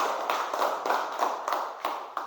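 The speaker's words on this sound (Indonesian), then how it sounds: "Tepuk tangan boleh ya anak-anak." A class of children clapping together in a classroom, a rhythmic burst of about seven or eight even group claps over a couple of seconds, close and moderately loud.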